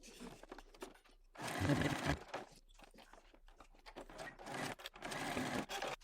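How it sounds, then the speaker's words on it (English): A home sewing machine stitches bag strap connectors onto a bucket bag's outer panel, running in bursts with pauses and repeated back-stitching passes, close and fairly loud. "go to my sewing machine and sew that to my outer, back stitching several times"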